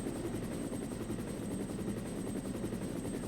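Helicopter arriving offscreen in the video game Resident Evil, a steady loud rotor thrum with rapid chopping pulses and a constant high whine, continuous throughout with no talk.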